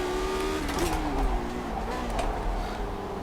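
A Lotus 79 race car in iRacing accelerates out of a corner, the engine note climbing through gears with a steady loud drone and overlapping engine sounds of nearby cars.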